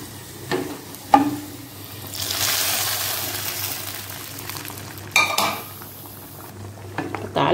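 Tempering is poured into a pot of okra sambar and stirred, with a sharp sizzling burst, metal clinks of the spoon against the pot, and bubbling and stirring that follow.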